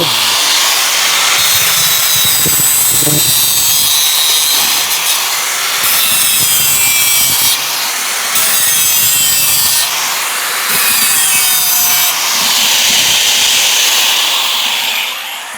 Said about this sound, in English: And then you got this arm that keeps you in line for your angle grinder.